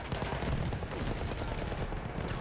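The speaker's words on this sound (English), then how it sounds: "I'm getting sniped at." Rapid gunfire in the Battlefield 1 online game, dense overlapping shots and crackling reports packed into a couple of loud seconds.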